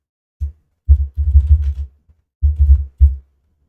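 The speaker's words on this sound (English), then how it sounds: "You guys can probably still hear my keyboard." Computer keyboard typing picked up by a streaming microphone, a few heavy, muffled bursts of keystrokes with short pauses between them, close and low-pitched.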